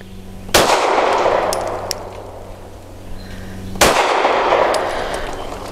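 An Arex Delta M OR Gen 2 pistol fires two loud, close shots about three seconds apart, each a sharp crack followed by a ringing, fading tail.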